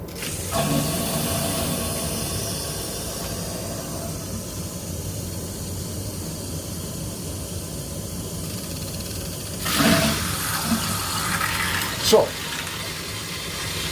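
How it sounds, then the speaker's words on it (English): A water softener tank runs its backwash cycle as a steady, even hiss of rushing water, with a couple of brief louder surges near the end. "I'm going to manually put this into backwash right now so you can hear it."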